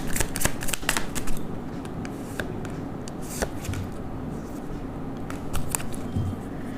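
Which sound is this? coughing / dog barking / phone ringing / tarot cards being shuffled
tarot cards being shuffled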